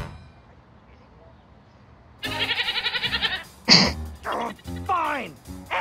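A loud, close goat bleat from the Ed, Edd n Eddy video game, a wavering pulsed cry, comes after a quiet start and is followed by more bleats and vocal sounds.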